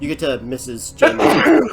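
A single sharp sneeze bursts out close by right after a man's speech, sudden and loud in a small room during a casual tabletop role-playing game session.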